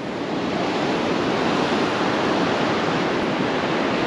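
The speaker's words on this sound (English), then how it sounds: "The wind is to our back." Steady, loud wind rushing across open water from a small boat heading back after a long run out, a continuous broadband roar with no talk.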